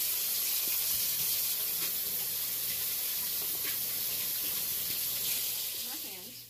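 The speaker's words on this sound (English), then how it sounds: "the first thing I'm going to do is I'm going to wash my hands" Tap water runs steadily into a kitchen sink during handwashing before steaming cabbage, a continuous close hiss with faint splashing that fades slightly at the end.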